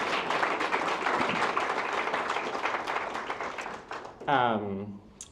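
Steady audience applause at a conference, many hands clapping at moderate distance, tapering off as a voice starts speaking near the end.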